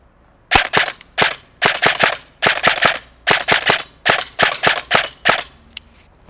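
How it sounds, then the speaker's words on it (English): Krytac Trident MKII PDW airsoft gun fires outdoors in a rapid series of sharp, loud cracks, grouped in short bursts of two to four shots with brief pauses between, heard up close. "let's let off a couple rounds."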